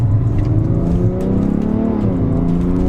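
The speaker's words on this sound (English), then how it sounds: "Down to second gear there." BMW 335d xDrive with a turbo diesel engine pulling hard in second gear after a manual downshift, a loud, steady drone that climbs in pitch throughout, heard from inside the cabin with no talking.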